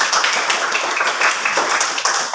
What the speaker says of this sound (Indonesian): tepuk tangan dulu untuk pertanyaannya